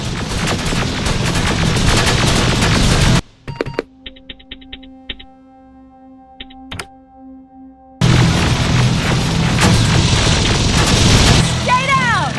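Heavy gunfire in the first-person shooter Terminator: Resistance, dense rattling bursts and booms filling the opening seconds, then a sudden quiet stretch with sparse mechanical clicks and tones before loud, continuous firing resumes.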